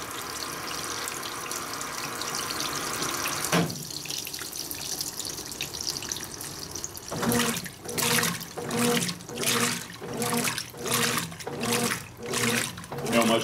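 A Brastemp 16kg washing machine (BWK16AB) washing a queen-size bedspread on the turbo agitation cycle. Water runs and splashes steadily, then the drum sloshes in a loud, regular back-and-forth rhythm, and the sound is close.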